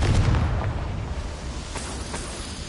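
A Confringo fire spell in Hogwarts Legacy bursts with a loud, close boom at the start, then a rumbling tail fades out over a few seconds.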